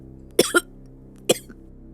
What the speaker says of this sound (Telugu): నీకు సడన్ గా ఎందుకు ఇంత దగ్గు వస్తుంది?